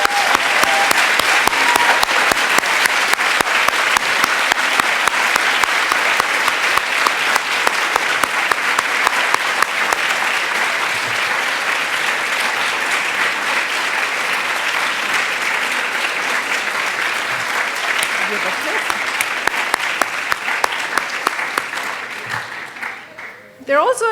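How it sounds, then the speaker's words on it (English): Graduation ceremony audience applauding steadily for about twenty-three seconds, a dense, sustained wash of many hands clapping that fades out near the end. "Let's give them a round of applause."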